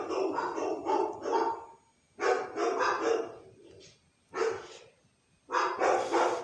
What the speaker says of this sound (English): My dogs are going off on something.